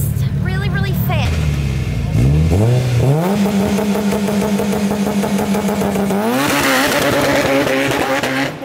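An all-wheel-drive car revving hard and launching at a car meet, loud close engine that climbs in pitch, settles into a high sustained roar, then surges again, with voices of people nearby over it.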